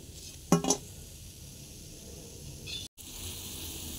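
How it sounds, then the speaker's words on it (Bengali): Round bora fritters frying in hot oil, a soft steady sizzle running throughout, with a brief clink of a utensil early on and no voices. "এইভাবে সমস্ত বড়াগুলোকে আমরা ভেজে নিচ্ছি গোল গোল করে"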